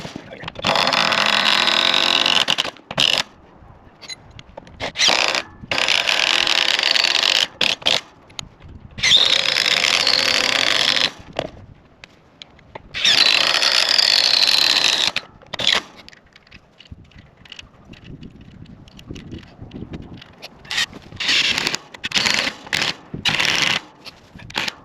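A drill bores out a hole to make room for washers while a solar electric gate opener is being installed. Several loud bursts of a few seconds each are separated by near-silent gaps, with no voices.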